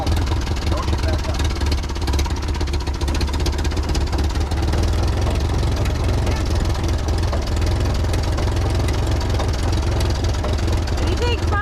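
A farm vehicle's engine runs steadily as its clutch is let out in first gear, giving a loud, close, continuous low drone with no breaks.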